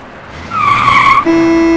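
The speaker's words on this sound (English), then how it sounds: "I almost got creamed by that car" A car skids past on a bridge in a radio drama effect, a loud, rising tire screech lasting about a second, followed by a sustained engine tone.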